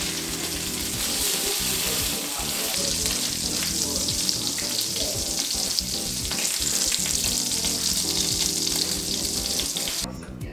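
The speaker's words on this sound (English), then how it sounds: "now we're gonna put them in the skillet, medium high heat" Salisbury steak patties sizzle and fry steadily in a hot skillet over medium-high heat, a loud, continuous crackling hiss that runs unbroken throughout.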